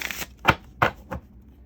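A deck of cards being shuffled in a tarot-style reading, heard as three or four quick, crisp riffling bursts close to the mic, separated by brief pauses.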